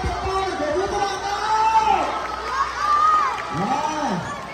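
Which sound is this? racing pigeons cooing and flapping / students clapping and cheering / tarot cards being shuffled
students clapping and cheering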